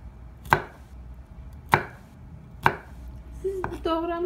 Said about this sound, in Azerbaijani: Qozları da biraz xırdalayırıq.